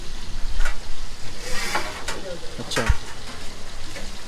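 Fish sizzles as it fries in a pan at a busy mutton hotel kitchen in Puri, a steady hiss of hot oil with occasional stirring clatter, while a person briefly speaks nearby.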